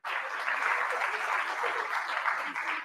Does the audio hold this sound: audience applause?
yes